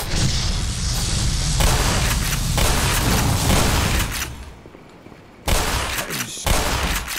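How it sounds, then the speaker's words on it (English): A grenade bursts against automated turrets in the video game Black Mesa, giving loud rumbling blasts and crackling gunfire that fade to near quiet before another sharp, booming burst returns. "That's how you take care of turrets. Throw a grenade at them."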